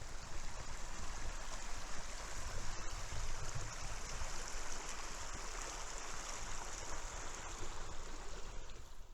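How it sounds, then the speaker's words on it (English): Two backcountry creeks flowing together off-trail, a steady, dense rush of running water filling the scene at close range, unbroken and with no voices. "there's two creeks coming in here."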